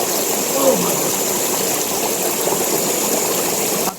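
A forest river in Mentawai country rushes steadily, a dense, even wash of flowing water heard up close that cuts off abruptly at the end.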